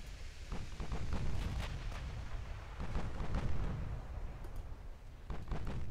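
Heavy 16-inch battleship gunfire in the naval game Ultimate Admiral: Dreadnoughts, aboard USS Massachusetts, a dense run of deep booming blasts and rumbling concussions that fill the whole stretch loudly with no voices.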